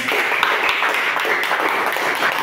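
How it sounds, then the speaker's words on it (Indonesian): A class audience at an Islamic marriage lesson claps in a brief, continuous burst of applause that stays fairly even and moderately loud throughout. "Tepuk tangan lagi buat kita semuanya."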